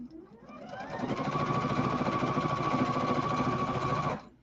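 A sewing machine stitching fabric runs in one continuous burst, its rapid mechanical whirring and needle chatter rising as the pedal is pressed, holding steady and close, then stopping abruptly, with no voices.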